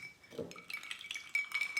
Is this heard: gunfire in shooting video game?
no